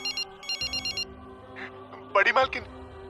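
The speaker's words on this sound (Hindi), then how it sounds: "तभी उसने देखा अर्नब उसे फोन कर रहा था" An incoming phone call rings with an electronic ringtone: bursts of bright, pulsing chirps repeat in short groups, followed by a speaking voice and more tonal sounds.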